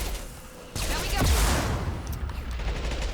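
SMG gunfire in Mass Effect 2, heard as a rapid burst of automatic shots over steady game background sound.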